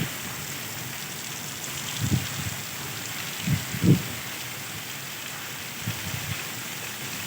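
Heavy summer storm rain at night pours steadily as a broad, constant hiss, with a few low thumps of thunder or gusts rumbling underneath.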